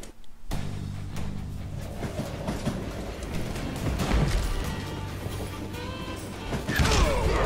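A train in the video game Call of Juarez: Gunslinger rumbles and clatters steadily, with rattling metallic clanks and rolling noise rising in intensity over several seconds, close and loud.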